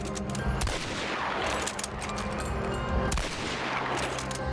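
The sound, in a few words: silenced weapon gunfire in Hunt: Showdown video game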